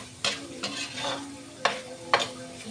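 Pork fat fries in a pan for pancit canton, a soft continuous sizzle broken by four sharp scraping knocks of a utensil against the pan, close by and without any voices.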